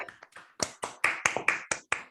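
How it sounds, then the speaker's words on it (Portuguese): A handful of people clap at the end of a talk on light localization in aperiodic metamaterials: sparse, distinct claps close to the microphone, about ten sharp hits in an uneven rhythm, with no talk over them. "proponho uma salva de palmas aqui final"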